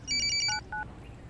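A telephone rings with a short electronic ringtone: a quick series of bright, pulsing beeps followed by two longer tones, fairly loud over a faint background hum, with no voices.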